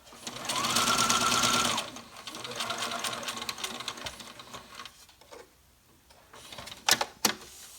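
A sewing machine back stitching at the start of a quarter-inch seam on a fabric face mask, with a loud whirring run, a shorter second burst, then quieter stop-start stitching and a few sharp clicks near the end.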